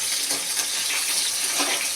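Onions frying in a pan for rasam give off a steady, hissing sizzle. It is bright and even throughout, at moderate volume, with no voices.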